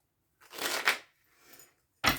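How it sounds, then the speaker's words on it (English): A deck of cards shuffled by hand at close range: a rippling riffle burst, a fainter second riffle, then a sharp bridge snap, with no talk. "So I'm going to shuffle this deck up."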